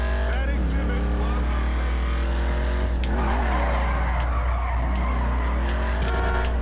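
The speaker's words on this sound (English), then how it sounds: "Drift in between these guys." A car drifts with squealing, skidding tyres in GTA 5 Online, its engine droning loudly and steadily underneath while tyre screeches rise and fall in a couple of long sweeps.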